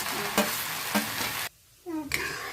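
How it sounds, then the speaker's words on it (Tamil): Onion and manathakkali greens sizzle in hot oil in a pan, broken by a few scraping stir strokes and a brief pause before the frying resumes. "அப்படியே இந்த கீரையவும் போட்டு நல்லா அலைஞ்சிட்டு எண்ணெய் வச்சு நல்லா சுருண்ட வரும்"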